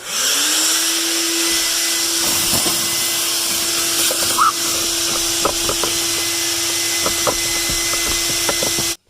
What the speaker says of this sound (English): Let me get a vacuum and vacuum this up.